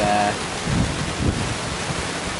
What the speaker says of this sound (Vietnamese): mưa dữ rồi à, mưa tới rồi à